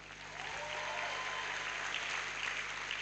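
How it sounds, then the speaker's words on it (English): Audience at a University of Benin matriculation ceremony breaks into steady applause, building from a quiet start into sustained, moderately distant clapping from a large hall crowd. "I was expecting you to clap for him more than that."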